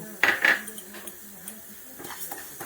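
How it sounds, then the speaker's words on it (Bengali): Parboiled rice is dry-roasted in a metal pot at home, a utensil scraping and clinking against the pan in a few sharp strokes followed by lighter intermittent taps. "এই চালটাকে আমি এভাবে ভাজা করে নেব"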